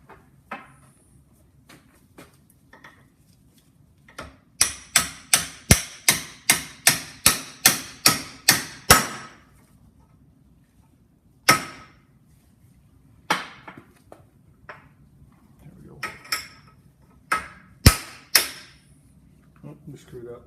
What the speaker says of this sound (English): but then you'll have to hammer it down